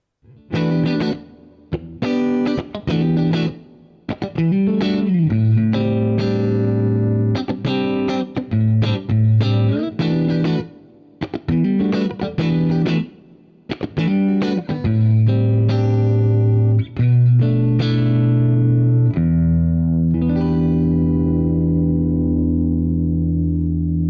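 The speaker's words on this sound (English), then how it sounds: "this guitar lends itself very well to funk playing" A clean Aria Pro II 714-GTR electric guitar through a Boss compressor plays choppy funk chords and muted rhythmic stabs, ending on a sustained ringing chord.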